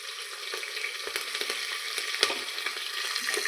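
Sliced green chilies sizzle and crackle in hot oil in a home kitchen pan, a steady close frying hiss broken by sharp pops, with no talking.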